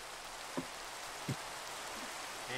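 Rain falling in Minecraft, a steady soft hiss of rainfall with two faint dull thuds in between, with no voice over it.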